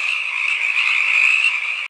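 A frog croak sound effect plays as one loud, sustained buzzing trill, steady for about two seconds before cutting off abruptly.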